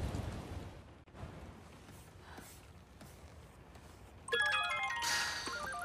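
A phone rings during a call in the Spider-Man 2 video game, with a bright electronic ringtone entering near the end over quiet rainy ambience and low rumbling.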